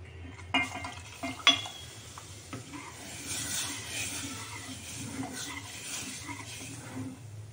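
Soft scraping and occasional metallic clinks of a spoon stirring horse gram soup in a pot, close and gentle, with a faint bubbling hiss underneath.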